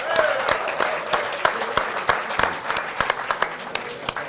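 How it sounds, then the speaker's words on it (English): An audience at a Baltimore Ravens fan event applauds its sponsors, with steady clapping from a moderate crowd and sharp individual claps standing out throughout. "A round of applause for those folks as well."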